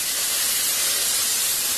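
Water poured into hot fried semolina for a sujir halwa, a loud, close burst of steamy hissing that fills the whole short moment without any voices.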